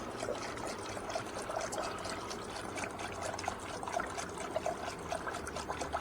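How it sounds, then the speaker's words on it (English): Coolant pouring through a funnel into the radiator of a 2009–2012 Toyota RAV4 2.5 four-cylinder during an upper hose replacement, a steady close trickle and gurgle running continuously with no talk. "Just keep filling it up till it doesn't take no more coolant"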